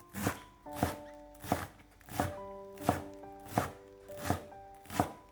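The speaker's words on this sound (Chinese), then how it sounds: "首先准备一把摘好洗净的韭菜，去掉根部以后，给它切成小碎丁" A knife chops washed chives with the roots trimmed off into small pieces, sounding as seven steady, evenly spaced thuds on a cutting board, close and clear with no talking.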